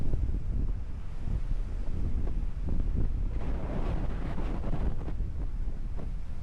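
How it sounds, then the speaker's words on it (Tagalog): Steady strong wind roaring and buffeting the microphone at a campsite on Marcis Point, Tanay, Rizal, a continuous low rumble with gusty swells throughout and no voices. "Kahit ganun pa man na malakas ang hangin"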